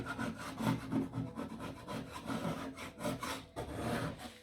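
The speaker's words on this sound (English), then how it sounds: "So you can see the difference in a first round of scraping between the normal paint stripper and the citrus strip." Paint stripper being scraped off wooden furniture during restoration, a steady rasping scrape repeated in close strokes with a continuous rubbing texture throughout.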